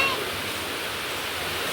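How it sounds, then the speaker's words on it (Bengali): Rain falls steadily in a dense, even hiss that fills the background, with no separate drops and no pauses, close and moderately loud, and no talk over it. "এই যে বৃষ্টি চলে আসছে"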